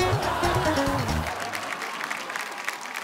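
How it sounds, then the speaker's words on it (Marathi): A crowd applauds steadily and fairly close, with a voice heard briefly at the start before the clapping carries on alone. "जोरदार टाळ्या जोरदार टाळ्या जोरदार टाळ्या"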